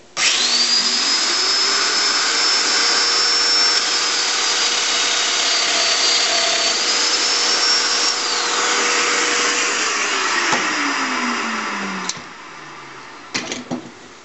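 Power tool bit cutting a mortise in a wooden end table piece, a loud, steady high-pitched whine that holds for about ten seconds, then winds down, followed by a few brief knocks.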